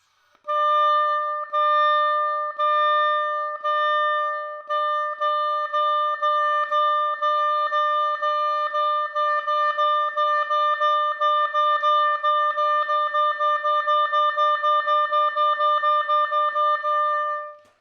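An oboe repeats one steady note in a tonguing exercise, the articulations growing faster and denser from spaced eighth notes to quick triplet bursts and sixteenths.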